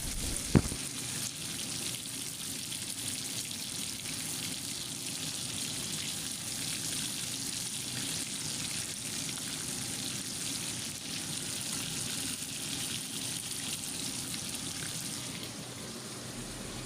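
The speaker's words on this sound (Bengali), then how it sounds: "এখানে আমি চিকেন ফ্রাই করতেছি চিকেন বোনার জন্য" Chicken fries in a pan in a home kitchen with a steady, dense sizzle and crackle that holds loud and unbroken for the whole stretch. A single sharp clink comes near the start.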